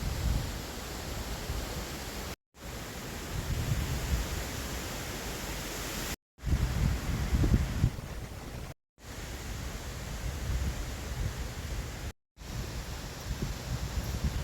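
Strong derecho storm wind roars as a dense, steady rush of broadband noise, loud and close with gusty surges, broken by several brief silent gaps.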